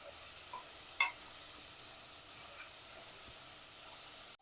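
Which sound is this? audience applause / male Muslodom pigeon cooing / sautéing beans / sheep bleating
sautéing beans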